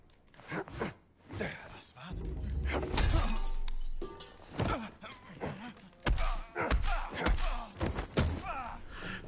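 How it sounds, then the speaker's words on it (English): A glass bottle shatters with a sharp crash as it strikes someone in Indiana Jones and the Great Circle, amid thuds and impacts, overlaid with excited voices and gasps in a busy, loud mix. "First I hit him with the freaking glass bottle."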